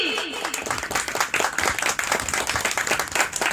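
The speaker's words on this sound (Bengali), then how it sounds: "আমরা সকলে মিলে একটা জোরদার ক্ল্যাপিং দিয়ে দিই" An audience at an online co-host event claps together for a guest, a dense, fairly loud burst of applause lasting a few seconds, with some voices mixed in.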